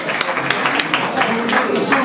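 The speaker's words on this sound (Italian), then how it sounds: "un applauso al Presidente" A crowd at an inauguration of new kitchens in Pachino applauds the President with brief, lively clapping that is close and fairly loud.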